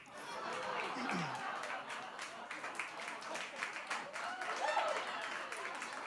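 An audience at a comedy performance claps in a scattered burst, mixed with chatter and chuckles from the crowd, fairly faint and roomy.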